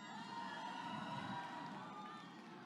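A festival audience at the San Francisco International Film Festival cheers and shouts together, a dense, fairly distant crowd roar with whoops that holds steady and eases slightly toward the end.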